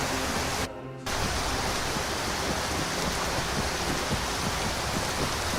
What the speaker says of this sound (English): The rain's pretty loud.